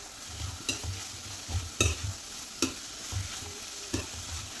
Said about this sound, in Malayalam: വഴറ്റി കൊടുക്കുക